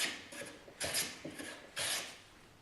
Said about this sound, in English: It's a chisel and a block of wood. And it's planing.